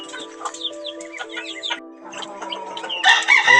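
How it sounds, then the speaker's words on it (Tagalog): Chickens and chicks of fighting-cock stock cluck and cheep busily at feeding time, a dense, close chorus of overlapping calls that swells louder toward the end. "Pinapakain na natin ang ating mga lagang panabong na manok"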